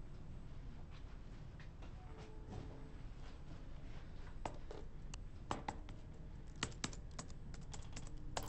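Computer keyboard typing in a film scene, a sparse run of light key clicks over a low steady room hum, with a few sharper taps near the end.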